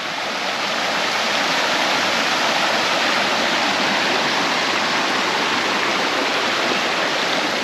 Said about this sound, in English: First little waterfall of the walk.